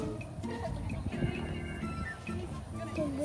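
Horses at a farm beside a sunflower maze, with soft hoof clops and an occasional whinny heard under steady nearby chatter and talk from several people.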